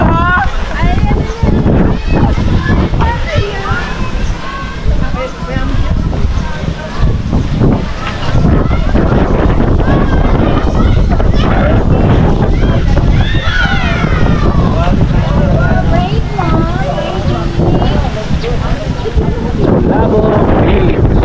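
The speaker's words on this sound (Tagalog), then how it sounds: "ang lakas ng hangin" Strong wind at Bulabog Beach on Boracay buffets the microphone in loud, continuous gusts, with surf and distant beach activity beneath and voices speaking through the roar.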